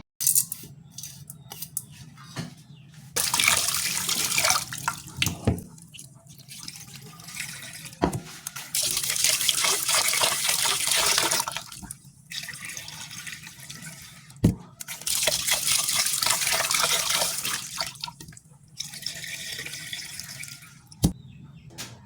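Glutinous rice being washed under a running tap, with water gushing in repeated bursts and sloshing between the pours, and sharp clinks from the rice and bowl in between.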